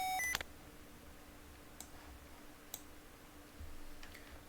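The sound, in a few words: spacecraft caution and warning alarm beeping in simulator game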